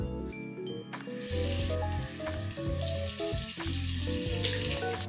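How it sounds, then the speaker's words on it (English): Water runs steadily from a bathroom tap while someone washes their face in the morning, a continuous splashing flow with soft clatters, moderately close and without talk. "To wake myself up, I wash my face"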